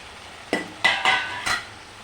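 A spoon stirring fried eggplant curry with tomato in a pan, four short scraping clinks against the metal over a faint sizzle, close and clear with no talking.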